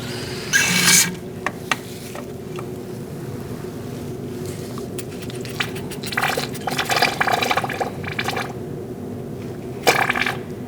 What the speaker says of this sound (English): you're going to pull out the brake fluid